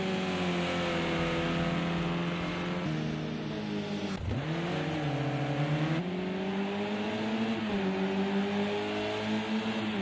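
Touring race cars, including a Mercedes, accelerating at Laguna Seca, a steady loud engine drone climbing in pitch through the gears, with brief dips at each shift, carrying on continuously for ten seconds without talking.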